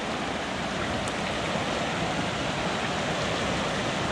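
A stream of clear water flows right beside a mountain path, a steady, close, full rushing hiss that continues without pause.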